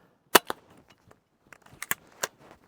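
A PD5 blaster fires several sharp snapping shots in two quick clusters, close and crisp against near silence.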